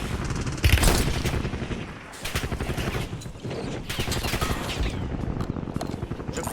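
Rapid bursts of automatic gunfire rattle loudly in Warzone Resurgence, dense fusillades with short pauses and overlapping shots and booms, no voices present.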